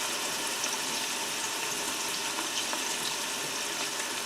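Diced onions fry steadily in a pan, giving off a dense, even hiss and crackle with faint pops scattered throughout. The sizzle stays close, constant and moderately loud, with no voices.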